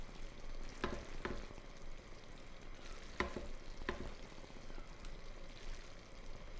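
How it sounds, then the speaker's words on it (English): Fresh egg noodles sizzle softly in sauce in a pan, a low continuous frying hiss broken by several sharp clacks and scrapes as they are tossed and stirred, fairly faint and close. "Toss the noodles in the sauce and cook for about 2 to 3 minutes until those noodles are hot."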